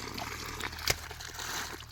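Water trickles and splashes from a pipe dropped on the ground, a faint continuous dribble with one brief sharp clatter partway through, quiet and close with no talking.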